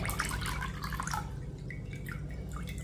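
Water trickles and drips steadily from soaked ragi in a sieve, with light splashing, quiet and close, fading into scattered drops.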